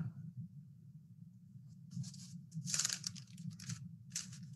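Paper being cut with scissors during a cut-and-glue craft assignment, several short crisp snipping and rustling bursts close by over a low steady hum, no talk.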